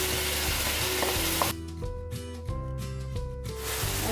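Tomatoes tipped into browned onions start a steady, loud sizzle in a pan, the frying hiss changing character partway through as the wet pieces hit the hot oil, with faint scraping alongside.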